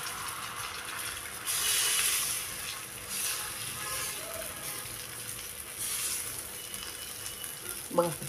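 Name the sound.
ghavan rice batter cooking on an oiled griddle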